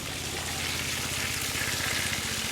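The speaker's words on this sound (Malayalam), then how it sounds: "പട്ടിയുടെ ദേഹത്തേക്ക് മഴ പെയ്യുന്ന പോലെ വെള്ളം വീണോളും." Water showering from a homemade PVC pipe sprayer onto a dog, a continuous rain-like hiss of falling droplets that grows slightly louder toward the end.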